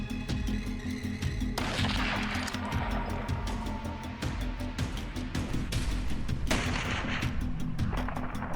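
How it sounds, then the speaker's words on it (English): Rifle shots fired during a boar hunt ring out as loud, sharp cracks over a busy background. "Jonathan holds his breath and fires. The shot shatters the quiet"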